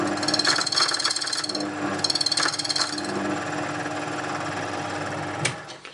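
A US 101 locksmith key cutting machine runs with a continuous mechanical whir and bursts of high grinding as the cutter bites, then winds down abruptly near the end.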